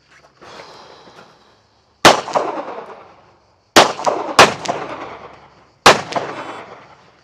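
Four sharp, loud gunshots with ringing echoes at a Bianchi Cup shooting range, spaced irregularly, preceded by a faint hiss; no talking.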